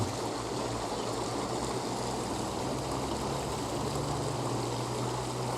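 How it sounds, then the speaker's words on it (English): Running water of a stream in Australia gives a steady, continuous rushing and gurgling that stays even and moderately loud throughout, with no voices. "It's always a nice sound, the running water,"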